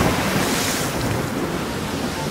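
Sea waves and strong wind as a dramatic sound effect: a loud, dense, continuous roar of surf and gusting wind, with no voices.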